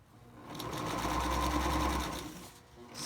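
A sewing machine stitches fabric for a tri-fold mask in one steady, close, whirring run of about two seconds that swells and then fades.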